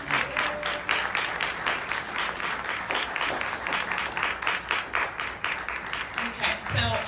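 An audience at a New York City celebration honoring school counselors claps for awardees, with loud sustained applause of many hands, steady and dense throughout, with some crowd noise mixed in.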